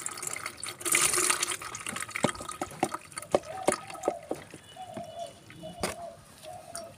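Onion peel water, the liquid from soaked onion skins, is poured and strained through a sieve, a close trickle and splash of water with scattered drips and small clinks, fairly soft throughout.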